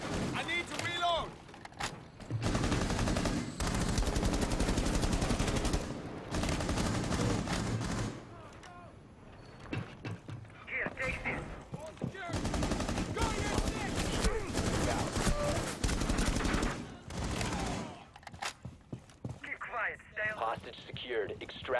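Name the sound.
gunfire in Rainbow Six video game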